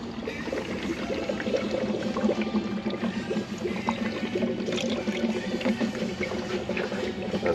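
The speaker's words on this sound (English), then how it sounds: "It's still gurgling." Coolant gurgling and trickling out of a Duramax 6.6 diesel radiator during draining, a steady close-up bubbling pour with no talk.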